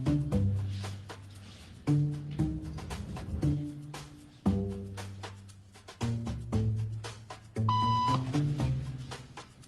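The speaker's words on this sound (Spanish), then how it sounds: "Un pitido significa que hay que levantarse" Electronic beep tones in a social conformity experiment: several separate tones start at intervals and fade, with a brighter, steadier beep near the end over a quiet room.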